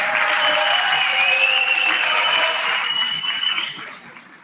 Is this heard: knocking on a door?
no